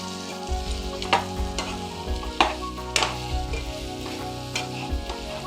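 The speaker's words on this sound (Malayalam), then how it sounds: "ഇനി ചിക്കൻ ഇട്ട് കൊടുക്കാം" Chicken pieces fry in a pan with a steady loud sizzle, punctuated by repeated scraping and clanking as a spoon stirs them, close up and without speech.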